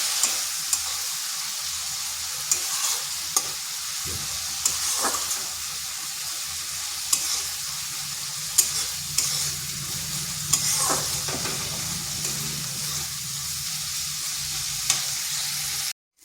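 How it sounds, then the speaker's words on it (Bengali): Spice masala with a splash of water frying in a kadai for an egg and pointed gourd (potol) curry: a continuous close sizzle broken by scattered sharp scrapes and taps of the spatula as it is stirred, with no talk. "মশলাটা ভালোভাবে কষিয়ে নিতে হবে"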